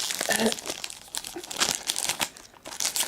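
Crinkly cellophane wrapping on a tea package rustles and crackles in short bursts, close up, with no voices.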